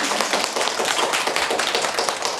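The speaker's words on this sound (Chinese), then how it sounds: "喜欢就有掌声" Audience applause after a talk on women keeping a happy marriage, a dense, steady wash of many hands clapping at once, loud and close, with no speech over it.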